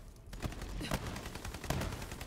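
Rapid automatic gunfire from a weapon in Borderlands 3, loud and close, with dense repeated bursts spread across the whole stretch and a few sharper shots standing out.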